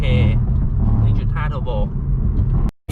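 A Honda Civic FK 1.5 with a titanium R1 Limited center-exit exhaust revs up hard, a loud close-up engine roar with rising tone, cut off abruptly near the end, with a voice speaking over it.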